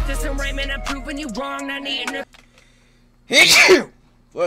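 A single loud, sharp sneeze bursts out near the end, right after a stretch of close talking and background music.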